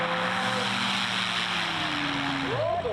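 An airplane with a Duke three-blade reversible propeller lands, a steady engine and propeller roar that swells into a rising tonal sweep near the end as the prop goes into beta, with people talking over it.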